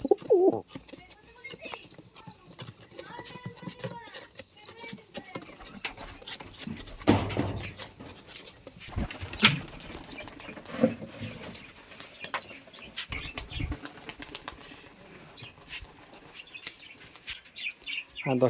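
Giribaz pigeons flutter and flap their wings in bursts while soft cooing and chirps continue nearby, with occasional distant voices.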